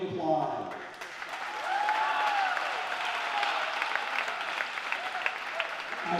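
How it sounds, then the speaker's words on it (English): Sustained applause from a gym audience honouring senior players at a Wheaton Academy boys volleyball match, steady and fairly loud with crowd noise throughout after a brief voice at the start. "Let's give them one last hand of applause."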